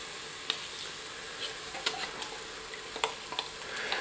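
Cream of celery soup poured from a tin onto browned mushrooms in a pot, giving a soft continuous sizzle with scattered sharper ticks and stirring scrapes, fairly quiet and steady, no voices.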